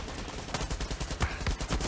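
Rapid bursts of Far Cry 6 gunfire, a quick string of loud, punchy shots in uneven rhythm, up close and with no talking.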